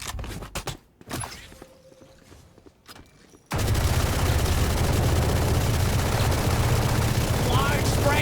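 A loud, sustained spray of automatic gunfire in the Valorant tournament match, bursting in abruptly after a few sharp scattered shots and continuing densely to the end.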